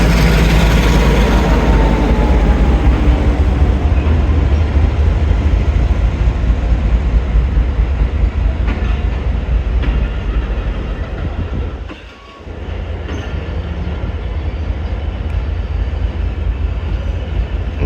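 GMCU 15 diesel locomotive shunting at Peshawar Cantt railway station, a loud, steady heavy engine rumble with rail clatter running throughout, briefly dipping near the end before resuming.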